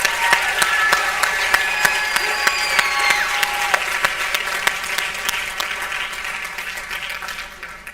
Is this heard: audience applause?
yes